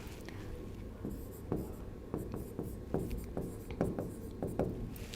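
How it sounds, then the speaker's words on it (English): Handwriting during a lecture on the RC4 cipher: a pen scratches and taps in quick, irregular strokes, close and fairly soft, with no voices. "These are the subscript values that I am writing."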